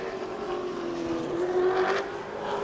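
A super late model race car on a qualifying lap at New Smyrna drones past with a steady engine tone that rises and swells toward the middle before easing, heard from a moderate distance.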